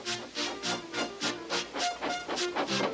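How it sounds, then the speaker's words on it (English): Steam locomotive working up to back onto a train, giving off rhythmic chuffs and puffs of blowing steam in a steady repeating beat, loud and close with no talk. "Gordon, with much noise and blowing of steam, got ready to back onto the train."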